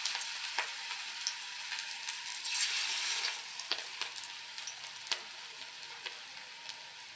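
Gram-flour fritters bound with coriander leaves fry in hot oil, giving a steady, close sizzle and crackle that runs throughout with a few sharper pops, alone without voices.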